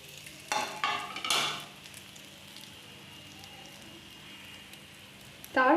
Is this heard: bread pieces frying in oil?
yes